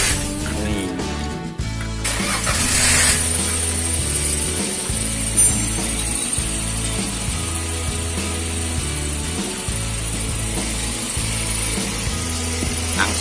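A car engine cranks and fires up right after a new Thunder-brand battery is fitted, then settles into a loud, steady idle close by, with no talk over it.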